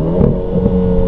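A Renault Clio 4 RS with an RS16 bodykit gives a loud, steady, close engine drone with a strong low hum, briefly rising in a short rev, with no talking.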